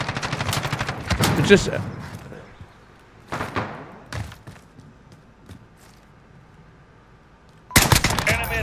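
Rifle shots from an SKS in the video game Modern Warfare, heard as a dense burst of loud gunfire near the start, then scattered single reports and a final loud volley, with a voice talking briefly between them.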